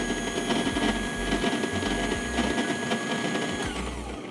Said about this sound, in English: Let's run it next to each grinder and see how loud they are